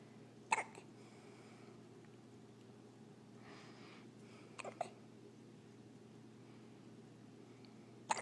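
A three-day-old newborn boy hiccups with short, soft, sharp catches, about three spread out over several seconds against a quiet room.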